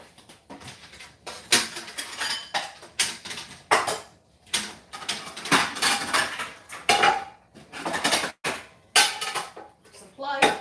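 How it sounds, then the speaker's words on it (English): Ceramic bowls and plates are lifted out and set down in a kitchen, with repeated clinks and knocks in an uneven rhythm, close and fairly loud, with a voice speaking in between. "let me grab a couple bowls"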